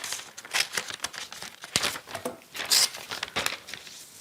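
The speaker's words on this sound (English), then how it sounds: "I could even start to cut it and tear it a little differently." Paper is torn and crinkled by hand for a mixed media collage, with a series of irregular rips and rustles in quick bursts, close and fairly quiet.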